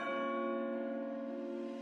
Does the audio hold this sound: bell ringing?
yes